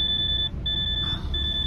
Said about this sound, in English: I'll get this beeping out of the way first